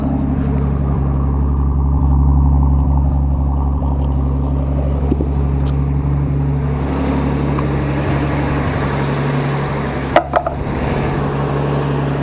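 A Nissan Fairlady Z idles with a steady low engine hum as it rolls slowly forward in first gear, close by, with a brief faint clatter near the end.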